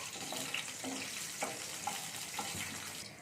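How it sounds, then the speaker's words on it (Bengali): Finely chopped garlic fries gently in hot oil with a quiet, steady sizzle and a few light taps of stirring over a few seconds, with no voices. "রসুনটা একটু হালকা করে ভেজে নেবো"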